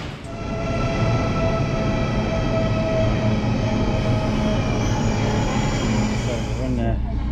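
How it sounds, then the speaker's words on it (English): A train rumbles steadily along the tracks, loud and close, with a sustained mechanical whine and hum throughout. "Train now."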